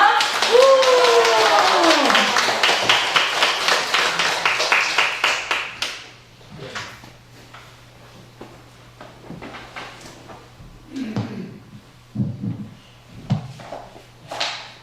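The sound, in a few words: applause welcoming a speaker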